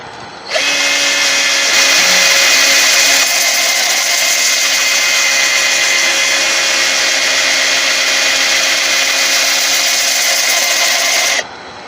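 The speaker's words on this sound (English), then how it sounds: "if the center of this pad is hitting that bowl, it's not going to sand properly." A power sanding pad grinds against an ironwood bowl during wood turning, a steady, loud whirring rasp that starts abruptly, holds evenly for about eleven seconds, then cuts off.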